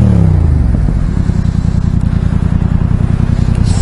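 A motorcycle exhaust burbles loudly close by, a rapid throbbing rumble that settles into a steady pulsing note after a brief rev at the start.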